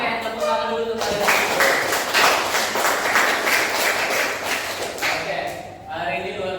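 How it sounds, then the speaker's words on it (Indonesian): Classroom applause for student groups: several seconds of dense clapping from many hands in a room, with a teacher's voice speaking before and after the burst. "Oke, tepuk tangan dulu untuk kalian."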